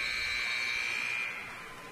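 A final buzzer sounds in a gym at a high school 1A boys basketball placement game, Rich versus Manila: one steady, loud electronic tone held for about a second and a half before trailing off.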